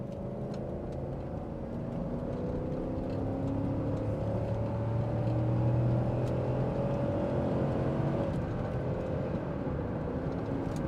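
A 1997 Ford Taurus SHO engine hums steadily and rises in pitch as it accelerates on an interstate, with continuous road and tire noise underneath, no voices.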